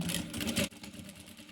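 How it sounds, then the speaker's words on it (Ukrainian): A sewing machine runs a vertical line of stitching through bedding fabric, a steady mechanical whir that is louder for the first half second, then drops to a quieter, continuous hum. "І прокладаємо строчку по вертикалі"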